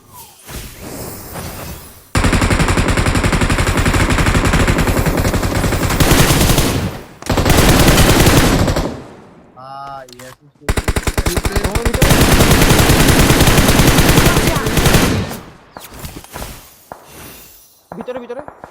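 Video game gunfire in a mobile battle royale match, loud sustained bursts of rapid automatic shots in several long volleys with short pauses and a few whooshes between them.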